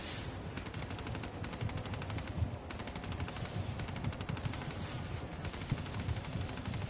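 Rapid machine-gun bursts and scattered gunshots fill a zombies Easter egg match in a video game, a dense, continuous rattle at moderate loudness with no talking.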